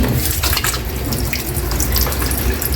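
Water runs steadily and fairly loudly from a tap, a continuous splashing rush with no pauses and no talking.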